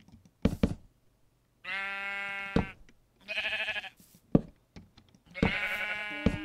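Sheep in Minecraft bleat in several drawn-out, wavering calls, loud and close, separated by short clicks and quiet gaps, with no talking over them.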